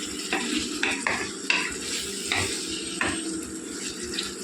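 A carrot and potato fry is stirred in a pan, with a soft continuous sizzle underneath and a spoon repeatedly scraping and knocking against the metal in uneven strokes, close and without talk.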